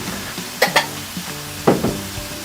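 Coriander powder frying in oil for a chicken masala while being stirred, soft sizzle under a few sharp spoon scrapes and knocks against the pan, no talking.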